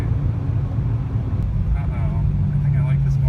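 A supercharged BMW M3 fitted with a Vortex supercharger builds boost on the road: a loud, continuous low engine drone with a rising whine from inside the cabin as people talk over it.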